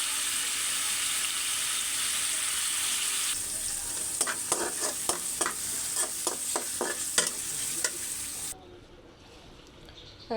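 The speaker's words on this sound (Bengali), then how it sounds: "পেঁয়াজ দিয়ে দিলাম।" Onion fries in a little oil with small fish for a chorchori, giving a bright continuous sizzle. A run of utensil scrapes and taps against the pan follows before the hiss suddenly drops away.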